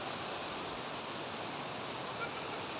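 Water rushes steadily at Papay Falls in a river resort, a broad, unbroken roar of falling water that stays constant throughout with no talking.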